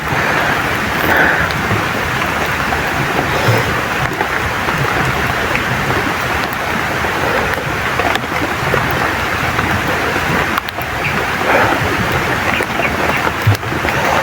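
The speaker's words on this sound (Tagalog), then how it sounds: "ulan na naman" Steady heavy rain pours down across the whole stretch, a dense continuous hiss with occasional louder drops and low rumbles, no voices.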